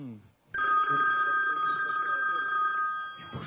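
A telephone at home rings with a loud, sustained electronic trill that starts abruptly after a faint voice and carries on steadily for about three seconds before fading.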